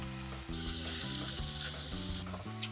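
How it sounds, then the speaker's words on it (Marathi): Chopped, washed safflower leaves hiss and sizzle steadily in a hot frying pan while making a Marathi-style leafy vegetable dish, with a bright continuous fry over soft background music. "आता आपण ह्याच्यामध्ये चिरलेली आणि धुतलेली करडई घालूयात."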